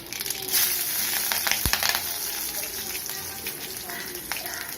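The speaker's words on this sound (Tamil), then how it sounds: "எண்ணெய் சூடாயிடுச்சு, கடுகு போட்டுக்கிறேன்." Mustard seeds sputter and crackle in hot oil for rava upma: a steady sizzle dotted with quick pops, one sharp crack near the middle, close and fairly loud.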